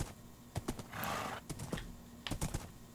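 A horse whinnies once in a drawn-out burst, surrounded by sharp clip-clop hoof knocks and clicking taps, fairly close and moderately loud, with no speech.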